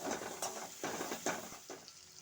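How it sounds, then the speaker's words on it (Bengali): Spice masala with Kashmiri chili powder and sugar is stir-fried in a pan for a chicken and jackfruit curry. Quiet sizzling runs under a few rhythmic spatula scrapes, and no voices are heard. "ভালোভাবে আমি মশলাটা কষে নেব"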